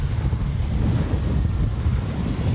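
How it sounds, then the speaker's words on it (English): Strong wind buffets the microphone at an outdoor RC jet flying field, a loud continuous low rumble with no other sounds over it. "Plenty of wind, that's for sure."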